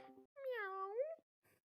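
A single drawn-out cat meow, clear and fairly close, with a brief bit of muffled noise before it and a faint rustle after.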